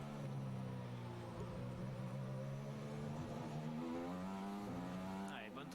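A Formula 1 car accelerates out of a corner at the Mexico Grand Prix, its engine note climbing steadily in a sustained high whine heard at a distance while a commentator talks over it.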